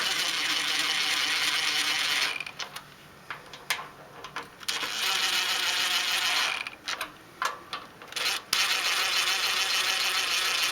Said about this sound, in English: I'm going to check them with a ratchet.